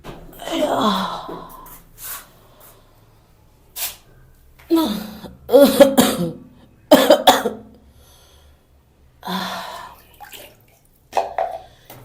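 Several separate bursts of coughing from a woman with a fever, spread over time, close and harsh, with quiet pauses and faint watery sounds of water being heated in between.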